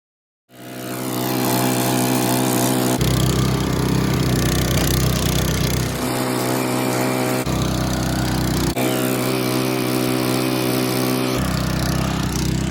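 A Classen TR20 dethatcher runs on wet St Augustine grass, its engine giving a loud, steady, close drone that continues throughout, with a few abrupt jumps in tone and level.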